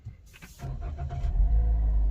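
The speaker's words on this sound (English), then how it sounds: "Now I'll try to start the car." A new Toyota Vios starts up from inside the cabin: a brief cranking whir swells into a low, steady engine idle that settles into a continuous rumble.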